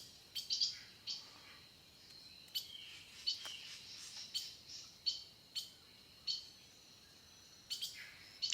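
Small songbirds, a wren and a junco among them, calling at a backyard feeder: a string of thin, high chirps and tweets scattered through the stretch, faint and somewhat distant, with no talking.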